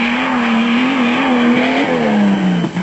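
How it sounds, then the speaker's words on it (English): A turbocharged Castrol Toyota Hilux race truck runs flat out over soft sand during the 1996 Toyota 1000 off-road race, its loud engine note holding high and wavering slightly as it charges past. "Driving a car at top speed over soft sand is hard work."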